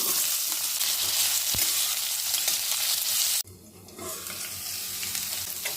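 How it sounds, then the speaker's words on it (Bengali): Diced potatoes, dried chillies, cumin and bay leaves frying in mustard oil hiss with a loud, steady sizzle that suddenly drops in level partway through, then continues softer with faint stirring. "সর্ষের তেলে দেব 2টো শুকনো লঙ্কা আর সাদা জিরে, দেব 2টো তেজপাতা, ছোট ছোট করে কেটে রাখা আলু।"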